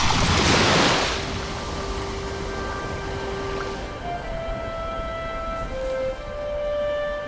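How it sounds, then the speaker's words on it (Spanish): Stormy sea waves break over the shallow reefs of Santa Catalina islet, an area about 12 metres deep and dangerous for navigation. A loud crash opens, then a steady roar of surf continues under sustained tones. "Para que comprendáis mejor lo que pueden ser los hileros de marea y lo que significa un temporal en el mar"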